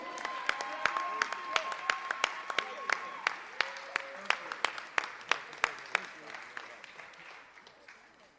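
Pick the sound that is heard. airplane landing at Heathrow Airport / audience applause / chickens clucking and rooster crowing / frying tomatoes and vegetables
audience applause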